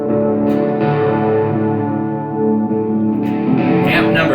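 Electric guitar played through a Lekato PA-1 pocket amp on a dirty, distorted preset with heavy delay and reverb, sustained overdriven chords ringing and smearing into echoing tails.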